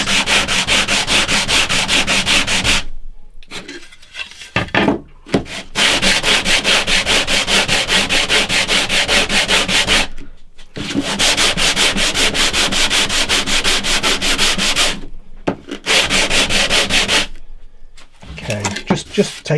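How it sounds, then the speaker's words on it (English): Steady hand sanding flat the back of a wooden guitar part, long rasping strokes repeated close up, broken by a few short pauses between sets. "I'm just sanding the back a bit to get it nice and flat"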